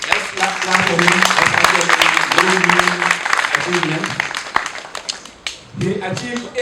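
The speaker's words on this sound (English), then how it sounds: "Let's clap for him" An audience claps for a student who earned top exam grades, a burst of applause with sharp broadband hand claps running under continuous talk.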